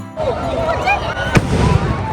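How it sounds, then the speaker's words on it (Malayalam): A single firecracker bursts at a Christmas tree lighting in Fort Kochi: one sharp, loud pop rising briefly out of steady crowd chatter and background voices. "അപ്പോൾ ഒട്ടും വിചാരിക്കാണ്ട് ഒരു പടക്കം പൊട്ടി"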